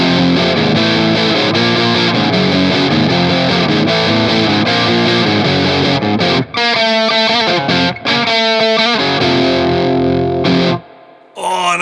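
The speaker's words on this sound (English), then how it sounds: "Oh, now that is a distortion." An electric guitar runs through a distortion pedal in distortion mode, on its LED clipping setting, giving fat, saturated sustained chords, loud and upfront, then choppy palm-muted stabs with short gaps before fading out.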